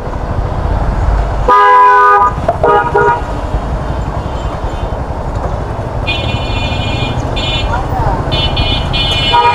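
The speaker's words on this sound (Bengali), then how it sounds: "খুবই জ্যাম এই রাস্তাগুলোতে" Car horns honking in a traffic jam on a Bangladeshi road, several loud, sustained toots and repeated beeps close by over a constant roar of engine and street noise, with a voice talking throughout.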